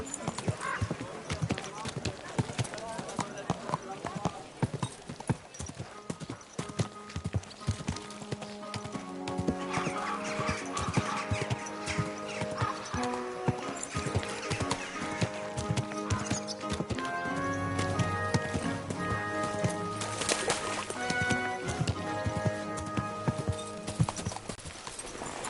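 A horse's hooves clip-clop in a steady rhythm in the medieval video game Kingdom Come: Deliverance II, with a whinny and background music, and voices talking over parts of it.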